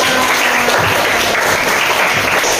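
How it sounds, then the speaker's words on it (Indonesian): A class of schoolchildren claps together during a lesson, steady dense applause filling the room for the whole moment, with a faint low hum underneath. "tepuk tangan untuk kita semua."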